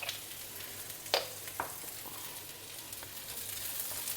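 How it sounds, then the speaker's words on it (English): Onions, dals and chilies fry in oil with tamarind over a low flame, a soft continuous sizzle with a few sharp spatters and stirring clicks, faint and steady. "Fry everything over a low flame because you don't want your dals and chilies to become burnt"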